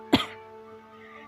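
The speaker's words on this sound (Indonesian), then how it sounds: "tubuhnya terluka parah, menyebabkan batuknya kambuh lagi" A single sharp cough from an injured man, short and close, fading into a quiet low hum.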